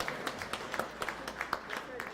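An audience at an alumni dinner claps for the patron in a sparse, rhythmic pattern of separate claps while a voice speaks over them.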